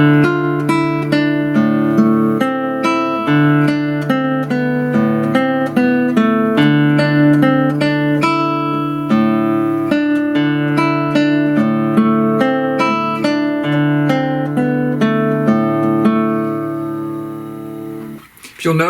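A fingerstyle piece is played fast on classical guitar, a brisk unbroken stream of plucked notes over bass, close and unaccompanied, fading out at the end.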